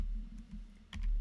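Computer keyboard being typed on, a few quiet scattered key clicks over a low background hum, ending in a slightly louder cluster of keystrokes.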